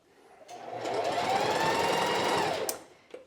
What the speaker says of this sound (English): As you can see, there is nothing wrong with starting and stopping when you are sewing.